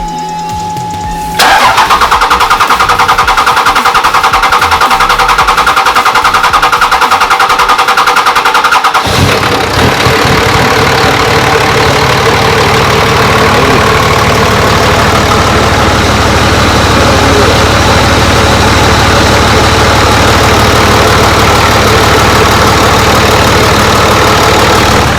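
A 2005 Cummins diesel truck engine cranks briefly, catches and fires, then settles into a loud, steady idle with a constant rumbling drone up close, with no talking.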